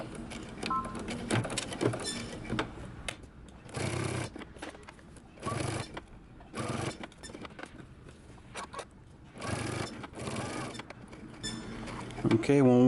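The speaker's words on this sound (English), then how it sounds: "starting at one end of the facing, we're going to stitch this down using 5/8 of an inch seam allowance" A sewing machine stitches down the facing of a button-up shirt in short bursts of fast mechanical whirring, stopping and starting, with a person talking quietly between runs.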